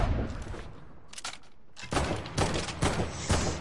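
Rapid bursts of video game gunfire, several loud volleys and clustered shots separated by short pauses.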